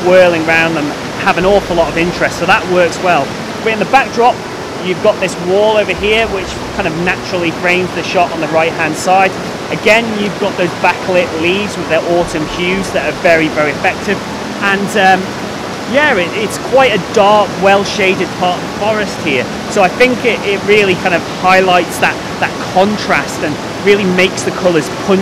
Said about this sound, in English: It's really, really noisy here with this raging water.